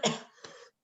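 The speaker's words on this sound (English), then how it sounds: "Of course, I start coughing right when you call on me." A single short cough at a town hall meeting, close and fairly soft, followed by a brief throat-clearing rasp before silence.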